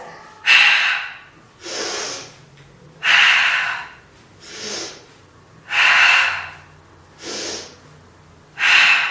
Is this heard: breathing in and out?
yes